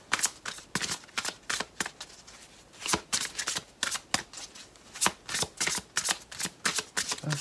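Romance angel oracle cards being shuffled by hand, a steady run of crisp riffling and flicking bursts up close, repeating in quick, uneven waves.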